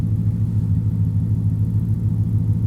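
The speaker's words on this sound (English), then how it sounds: "listen to the sweet exhaust" An old Ford car's exhaust idles with a steady, deep rumble, loud and close, unbroken throughout with no speech over it.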